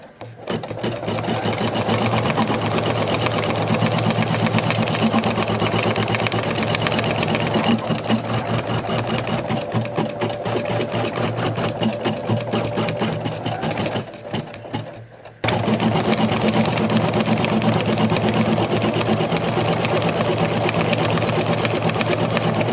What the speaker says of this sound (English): We are now going to embroider the next applique line, which will hold the Glitterflex in place.